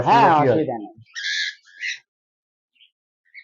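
Small pet birds give a few short, high chirping calls right after someone speaks. One or two faint peeps follow in near silence.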